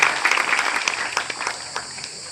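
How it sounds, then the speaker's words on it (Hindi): An audience of students and parents claps at an address by a political leader, a brief burst of applause that thins out into scattered claps. "ऐसे व्यक्ति के नाम पर तालियां बजानी चाहिए हमें निश्चित तौर पर।"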